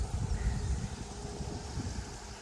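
Steady wind blowing across the microphone, a constant low rumble and rush with no voices.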